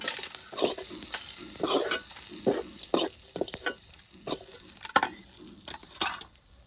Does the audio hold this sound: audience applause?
no